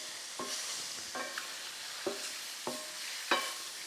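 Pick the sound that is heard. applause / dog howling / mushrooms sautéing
mushrooms sautéing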